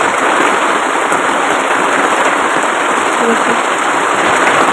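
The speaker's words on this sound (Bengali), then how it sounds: "দেখো কেমন জোরে বৃষ্টি পড়ছে গাইস, আকাশে মেঘগুলো সেরকম দেখো, টিনের চালে বোঝা যাচ্ছে ভালো।" Loud, dense rain drums steadily on a tin roof during a storm, a constant hissing patter that never lets up.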